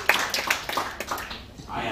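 Scattered clapping from a small stand-up comedy audience, a few sharp separate claps early that thin out, with voices murmuring in the room toward the end.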